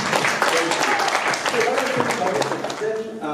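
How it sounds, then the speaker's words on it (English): A Tamil American conference audience gives a big round of applause, a dense wash of clapping filling the few seconds, with a voice speaking over it. "Let's give a big round of applause"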